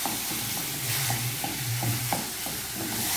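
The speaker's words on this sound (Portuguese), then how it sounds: "Aí a gente refoga a carne." Ground beef sautéing in a pan, a continuous dense sizzle with regular spatula scrapes and stirring pulses, close and alone without voices.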